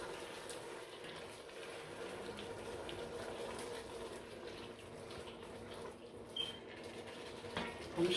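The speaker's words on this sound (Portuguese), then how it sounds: "Vamos colocar um bocadinho de água." Tap water runs steadily into a pot for a taro and veal soup, a constant close rushing stream for several seconds with no talking.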